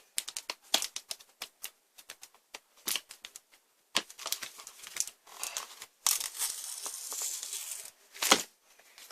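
Plastic wrapping on a giant Chupa Chups lollipop crinkles and crackles up close in irregular bursts, with sharp rustles, brief pauses and a longer stretch of continuous scrunching near the end.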